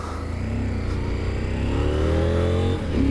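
Close, loud engine of an Ibex 800T motorcycle, a steady low rumble that climbs in pitch as the throttle opens, then dips briefly near the end before picking up again.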